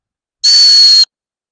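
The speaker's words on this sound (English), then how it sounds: "don't hold the whistle like this with your whole hand around the barrel" A field hockey whistle blown with the whole hand wrapped around its barrel gives a single loud, sustained blast of just over half a second, its tone slightly breathy and less pure.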